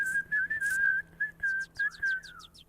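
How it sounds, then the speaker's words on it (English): A person whistles a bird-like tune, a run of clear, close, fairly loud notes with quick warbling trills toward the end. "I can do the bird whistle."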